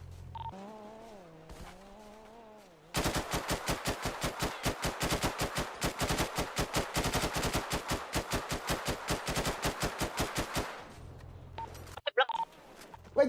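Rapid automatic gunfire from a roleplay shooting game, a dense burst of shots lasting about eight seconds, loud and close, with voices and a humming tone before it and scattered shots after.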